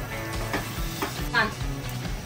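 Spices with ginger-garlic paste and onion sautéing in a pan for egg biryani, giving a steady low sizzle with light stirring scrapes and a brief louder scrape midway.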